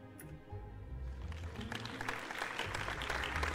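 Delicate applause in a grand royal ballroom after a dance song, soft steady clapping that builds slightly and fills the room, with a low hum of murmuring beneath.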